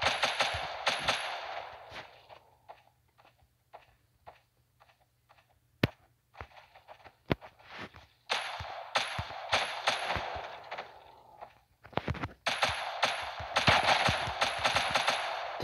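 Automatic AK-47 fire in a zombie shooting video game, loud bursts of rapid shots at the start, scattered single cracks in the middle, then long sustained bursts toward the end.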